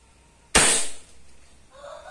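A single sharp crack from a PCP Beeman 1338 5.5 mm air rifle fired at maximum velocity, close and loud, with a brief decaying tail and quiet room noise after.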